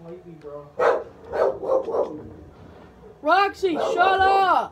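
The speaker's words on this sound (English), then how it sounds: "Sorry, that was my dog barking" Indoors, a dog barks a few times loudly nearby in a short burst, then a person shouts at it over the noise.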